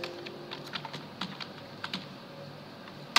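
Light typing on a computer keyboard, a handful of separate soft key clicks spread irregularly at close range, ending with a slightly louder keystroke.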